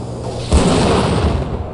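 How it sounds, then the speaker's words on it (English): A deep explosion booms in a video game, loud and sudden, then rolls on as a broad, crackling rumble for over a second. No one talks over it. "Oh, I didn't kill it with that explosion."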